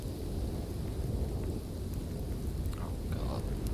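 A thunderstorm with heavy rain makes a loud, unbroken roar with deep rumbling underneath, and a faint voice is briefly heard near the end.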